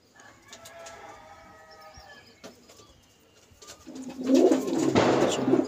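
A pair of pigeons cooing close by, soft coos at first, then a louder, throaty rumbling coo toward the end, with a few light rustles and no talk.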